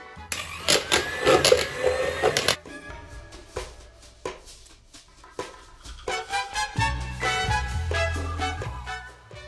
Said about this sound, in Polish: do miski wkładam tofu i miksuję je